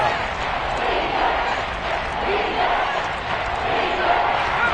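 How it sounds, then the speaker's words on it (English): A large football stadium crowd roars and cheers steadily and loudly throughout, a dense continuous wall of voices with no clear individual words. "Crowd getting in it a bit already."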